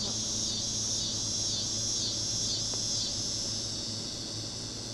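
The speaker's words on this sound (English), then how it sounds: "You probably heard the crickets going then." Steady, dense chorus of crickets trilling without pause over a low background hum, a calm outdoor night ambience.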